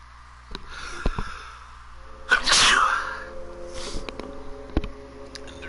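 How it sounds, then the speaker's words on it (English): One loud, close human sneeze, a sharp burst with a brief wet tail, preceded by a few quick sniffs and followed by quieter breathing over a low background hum. "feel a sneeze coming on now."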